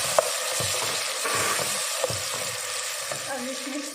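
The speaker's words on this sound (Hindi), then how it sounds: "टमाटर डाल दिए।" Tomatoes with garlic and ginger fry in a pan for daal maash, giving a steady close sizzle broken by soft scraping stirs and light spoon taps.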